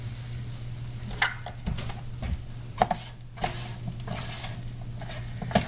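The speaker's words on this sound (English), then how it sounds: "give it a stir" A cauliflower and quinoa bake gets stirred in a hot pan, with soft scraping strokes and scattered knocks of the utensil against the pan over a low continuous sizzle, close and moderately quiet.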